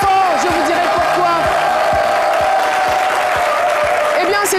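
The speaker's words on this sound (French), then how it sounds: "On va l'applaudir plus fort" Audience applause and cheering at a televised event, a loud continuous crowd roar with rhythmic clapping beats, while a voice with music-like tones carries over the top.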